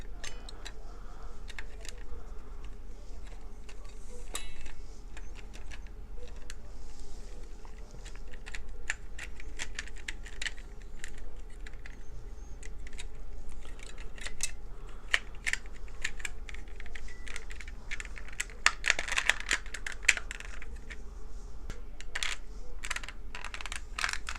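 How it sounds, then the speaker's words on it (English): Plastic clicks and snaps from an Xbox 360 controller being reassembled by hand, triggers slid into their slots and the back shell fitted on, a steady run of close, sharp ticks with a few louder knocks near the end, no talking. "we're ready to put the back of the controller on. Alright, from here, the trigger slots. Kind of slide the triggers in there first"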